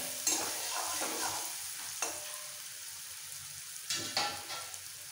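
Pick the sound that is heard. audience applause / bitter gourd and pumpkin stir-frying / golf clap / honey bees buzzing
bitter gourd and pumpkin stir-frying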